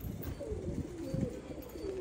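A pair of Lalchira pigeons, male and female, coo in a loft, with low soft repeated coos over a steady background hum.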